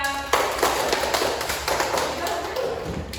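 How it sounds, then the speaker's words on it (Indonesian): Classroom applause from a group of students after counting exercises, a dense burst of clapping that starts abruptly and keeps up steadily to the end, close and fairly loud. "tepuk tangan untuk kita semuanya"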